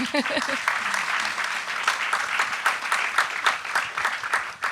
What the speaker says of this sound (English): quick round of applause for the panel, maybe.